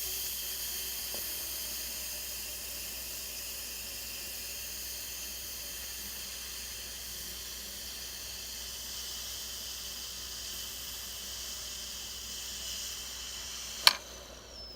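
An Instant Pot pressure cooker releasing steam through its vent, a steady, even hiss that holds without pause, with a brief sharp click near the end.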